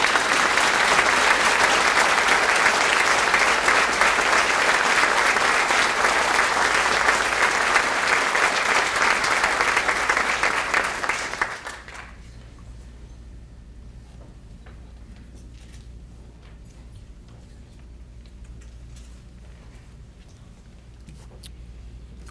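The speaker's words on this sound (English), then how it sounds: "Let's give Lissa a round of applause." Audience applause for an honorable-mention honoree at a police employee-of-the-year awards ceremony, a dense, loud round of clapping lasting about eleven seconds before stopping abruptly into quiet room tone.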